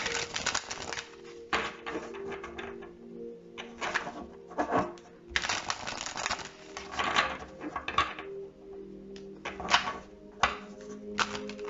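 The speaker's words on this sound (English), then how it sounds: "let's get 2 more cards from this particular deck" Cards drawn from a tarot deck make repeated crisp, papery flicks and shuffling rustles in short bursts, close up in a quiet room.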